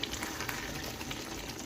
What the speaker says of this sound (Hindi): अब सब चीज़ों को मिक्स करके थोड़ी सी इसकी हम भुनाई करेंगे।